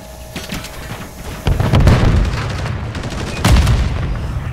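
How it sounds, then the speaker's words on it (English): Close, loud Call of Duty Modern Warfare 3 multiplayer gunfire with a RAM-7 rifle: sharp rapid shots and heavier booms in quick clusters, peaking around two bursts, while in-game radio voices call out. "I'm taking effective fire!"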